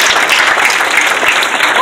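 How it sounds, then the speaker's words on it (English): Steady, dense applause from a hypnosis show audience fills the whole stretch, loud and close with no pauses. "Let's give a big round of applause, you guys."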